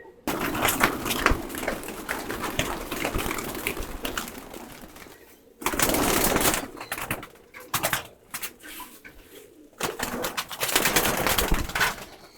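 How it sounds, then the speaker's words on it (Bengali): Pet pigeons let out of their loft coo and rustle nearby in bursts, with wing flutters and scratchy movement between quieter gaps. "কবুতরগুলো বের হয়ে এলোমেলো ওরা শুরু করছে"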